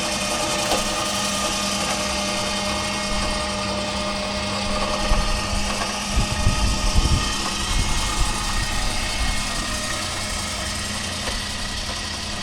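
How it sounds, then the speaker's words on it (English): A winch raising a tilt-over antenna pole gives a steady mechanical hum and drone throughout, moderately loud and close, with a brief rougher low rumble partway through and no talking. "winch doing its thing"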